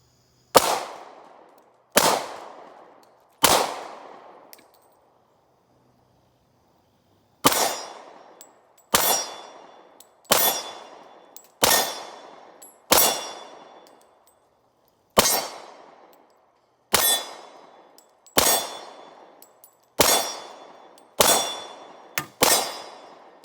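Smith & Wesson M&P40 M2.0 pistol fired at steel targets, about sixteen sharp shots with ringing clangs in short bursts separated by pauses, loud and close with no talking.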